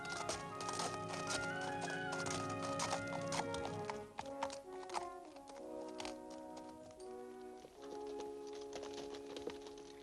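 Horse hooves clip-clop steadily in a radio drama of Ivanhoe, set in a medieval lord's domain. The hoofbeats run throughout at moderate volume beneath layered orchestral music.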